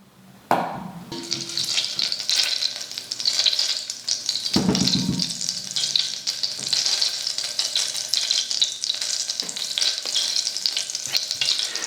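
Butter melts in a heated saucepan while cooking beef stroganoff, giving a steady close sizzle and crackle that runs the whole time, broken by a brief clatter or stir near the start and again partway through.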